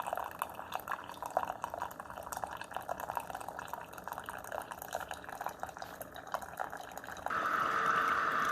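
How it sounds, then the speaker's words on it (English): A Walmart Mainstays single-serve dual brew coffee maker whirs and gurgles as its small pump pushes water through, with a fine steady patter of dripping that grows louder and fuller near the end. "you can hear it turn on a little pump, and then that's when the water starts coming out"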